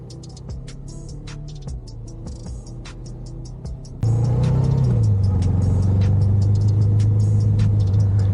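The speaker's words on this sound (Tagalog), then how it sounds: "bumungad na sa amin ang mahabang pila ng sasakyan na halos walang galawan" Steady engine rumble of vehicles crawling in a long, near-stationary traffic jam on a road, with a continuous low drone that grows louder and deeper partway through and stays close and constant without talk.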